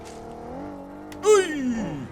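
A car engine in a video game with a Jujutsu Kaisen mod revs up close, its pitch climbing and then sliding down again as the vehicle drives and accelerates.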